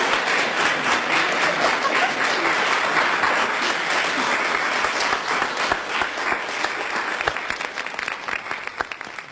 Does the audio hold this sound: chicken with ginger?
no